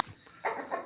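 A hen held in someone's hands during treatment in a poultry setting gives two short, close clucking squawks, the second louder than the first.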